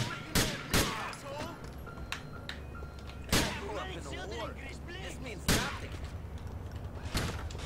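Pistols fire during a street shootout in Grand Theft Auto IV, with several sharp, loud shots spaced seconds apart over a steady background rumble. Voices chatter between the bangs.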